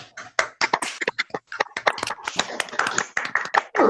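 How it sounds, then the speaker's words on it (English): Scattered claps from a small online audience unmuted on a video call, uneven individual hand claps and taps overlapping irregularly, close and fairly loud, with no steady rhythm. "Okay, everybody on mute for 1 second, just so you can clap."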